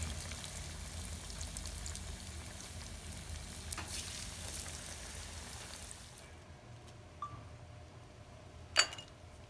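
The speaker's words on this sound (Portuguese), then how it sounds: "Empanei todos, agora eu vou fritar." Breaded rice balls with cheese sizzle in hot oil in a frying pan, a steady dense crackle for about six seconds that then quiets to a softer fizz with a couple of brief clinks.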